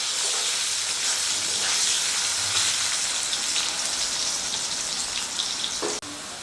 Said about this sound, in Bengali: এই দুটো দিয়ে আলুটাকে একটু লাল লাল করে ভেজে নেব।